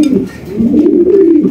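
Pigeons at a pigeon farm coo loudly and close, a low rounded warbling call rising and falling over about a second and a half.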